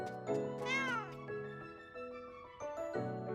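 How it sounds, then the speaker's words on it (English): A cartoon cat meows in the cozy video game Catto's Post Office, a drawn-out rising and falling call over gentle game music, close and clear, with a brief second tone near the end. "Oh, here's Grandmeow Cat"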